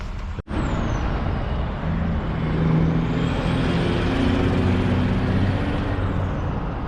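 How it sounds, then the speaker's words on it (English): Route 9 traffic in Poughkeepsie, New York, heard from a clifftop: a continuous wash of passing vehicles with a brief sharp knock near the start and a truck-like hiss and drone swelling midway, moderately distant. "That traffic right there is Route 9"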